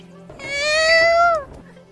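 A voice imitating a sad cat gives one long, drawn-out meow, loud and close, with a wavering, falling pitch.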